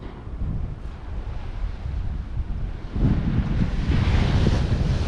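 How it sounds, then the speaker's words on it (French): Strong wind buffeting outdoors beside the sea near anchored sailboats, a loud continuous roar with rumbling gusts that grow heavier partway through, and no talking. "Et ça souffle dehors encore."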